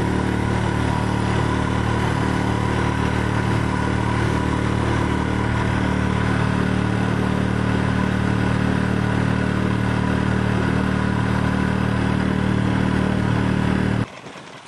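A boat's outboard motor runs flat out at full throttle, producing a loud, steady engine drone with a constant rough mechanical buzz that continues unbroken until it cuts off abruptly near the end.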